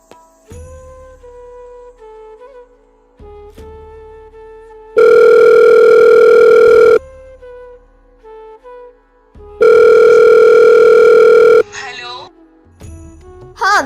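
Telephone ringback tone heard during a phone call in a school Hindi Day skit, two long loud steady buzzing rings separated by a pause, with quieter tones between them and a voice coming in at the end.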